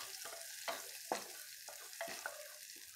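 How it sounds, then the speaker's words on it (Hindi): Chopped onions sizzling and frying in a pan while being stirred, with a steady faint sizzle broken by several scraping, clattering stir strokes at uneven intervals. "अब मैं इसमें डाल दूंगी मेरे चॉप्ड अनियंस और इसे मिला लेती हूँ"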